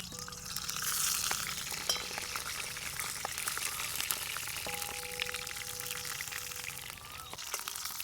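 Eggplant fries in oil in an iron kadhai, a steady close sizzle and crackle with occasional metallic clinks and stirring scrapes, and no talk.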